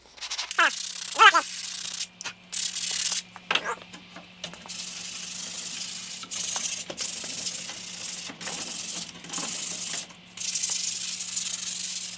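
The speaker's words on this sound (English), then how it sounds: "So let's sand it down just a little bit." Sandpaper rubbing over longbow wood laminations, roughening rather than smoothing them before glue-up, in a steady run of close, broadband scratchy strokes with brief pauses and a constant low hum underneath, plus a few short voice sounds early on.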